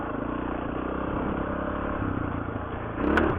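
A dirt motorcycle picks its way over rocks on the Rimrocker Trail, its engine holding a steady mid-pitched drone before a short louder surge near the end, heard up close on the bike.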